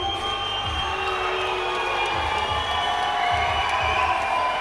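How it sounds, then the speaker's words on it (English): A crowd at a cage fight cheers in a steady, dense roar of many voices with whistles and shouts, heard from a distance, over a rhythmic low thumping. "And the crowd goes wild."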